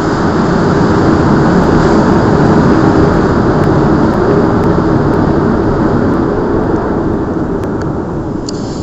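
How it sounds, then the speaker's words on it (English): A large airplane flies low overhead, a loud, broad, continuous roar that holds steady and then begins to fade toward the end, with no one talking. "That was a huge ass plane flying by"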